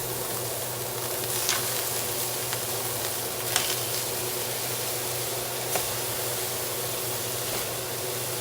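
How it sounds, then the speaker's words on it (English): Pieces of beef sear in a hot pan for a Beef Wellington, giving a steady, close sizzle with occasional sharper pops and spatters throughout. "So I'm gonna sear these all"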